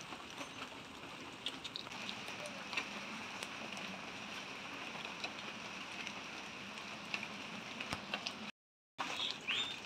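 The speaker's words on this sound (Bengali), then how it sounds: "এখন দুপুরবেলা বৃষ্টি পড়ছে, দেখুন এখন 2:30 বাজে, ঝিরিঝিরি বৃষ্টি পড়ছে" Light afternoon drizzle falls under a cloudy sky among potted plants and garden trees, a faint, steady soft patter with occasional distant bird chirps and a brief silent gap near the end.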